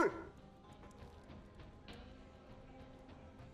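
Dog barking in the Necromunda: Hired Gun video game, a few soft yips and woofs scattered over a low rumbling game ambience, fairly faint and distant.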